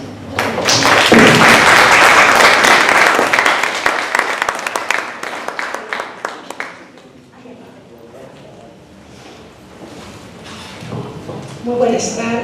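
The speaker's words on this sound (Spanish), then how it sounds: "la recibimos con un aplauso." An audience at a lecture on women in Peru's independence applauds, a loud dense burst of clapping that tapers off over several seconds before a speaker begins talking.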